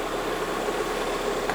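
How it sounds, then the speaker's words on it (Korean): A restored Hyundai New EF Sonata engine with new mounts runs at a steady idle, giving a continuous low mechanical hum and drone close by, without speech. "근데 블록의 피스톤 소리나 이제 타이밍 같은 소리는 확실히 좋아졌어요."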